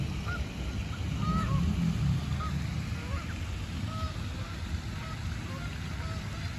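A flock of geese honking with scattered short calls over a loud, steady outdoor rumble, the birds sounding moderately distant and calling on and off throughout.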